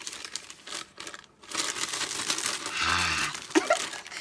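Coffee-dyed sandwich French fry paper is crinkled and crumpled by hand, giving loud, dense crackling in bursts with a brief pause, close up and without talk.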